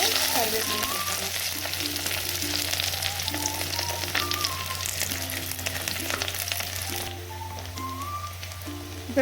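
Onion and curry leaves frying in hot oil after popped mustard and fenugreek seeds, a loud continuous crackling sizzle with occasional stirring clatter, easing slightly near the end.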